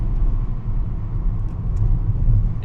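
A 2013 Mini Cooper S Roadster with a six-speed gearbox cruising a twisty road, heard as a steady low engine and road rumble from inside the car, with no talking.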